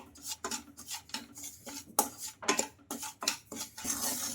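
Upma rava, also called bansi rava, is stirred and dry-roasted in a kadai over a low flame, with a spoon scraping the metal in repeated quick, close strokes of fairly even rhythm.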